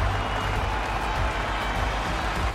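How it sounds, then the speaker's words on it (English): A sellout crowd applauds after a Japan Grand Prix race in the F1 22 video game: a steady, dense wash of clapping and crowd noise that holds evenly from start to finish. "earned the applause of the sellout crowd here today"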